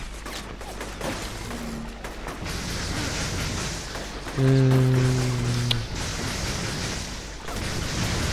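Explosions and gunfire in the video game inFAMOUS form a loud, continuous rumbling barrage with a brief swell partway through, joined near the end by a short vocal sound.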